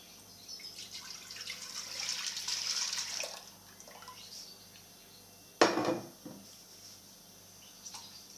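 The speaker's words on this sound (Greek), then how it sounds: "Ρίχνουμε το γάλα μέσα στην κατσαρόλα." Milk pours into a saucepan for dulce de leche with a soft, faint liquid hiss lasting a couple of seconds, followed by a sharp clank of a pot or utensil in a quiet kitchen.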